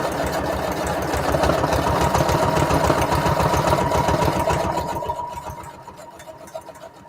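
A sewing machine runs a standard zigzag stitch over existing stitching on a Christmas junk journal embellishment: a loud, steady rapid mechanical chatter that winds down and stops near the end, with no talking.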